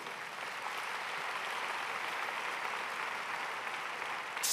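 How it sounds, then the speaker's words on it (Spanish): Congregation applause for the Lord during a Spanish-language sermon, a steady wash of dense clapping, faint and even throughout without talk. "dale un fuerte aplauso al Señor por eso."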